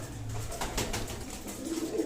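Pigeons kept by a Punjabi pigeon fancier coo nearby, low soft murmuring calls repeating under a faint flutter of wings.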